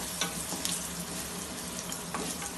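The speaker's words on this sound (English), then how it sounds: "Just see that the turmeric doesn't get burnt. Just saute it a little." Turmeric sautéing in hot oil gives a steady, soft sizzle with faint scraping now and then. It runs evenly throughout with no talk over it.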